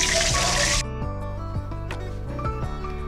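Oil pours into a hot wok for a Bengali prawn and elephant yam stem dish, a short liquid splash and hiss lasting under a second, then settling to soft low kitchen rumble with faint clinks.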